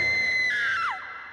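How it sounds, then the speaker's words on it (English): A high, piercing scream from the animated series Cornchip & Jellybean holds a sustained shrill pitch, then slides sharply downward and cuts off, loud and alone. "Ooh, a mysterious scream."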